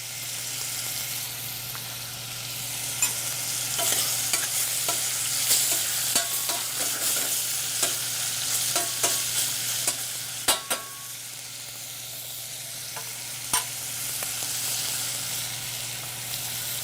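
Pork butt sears in a pan with a steady, bright sizzle, while a utensil stirs and scrapes with scattered clicks and knocks over the frying.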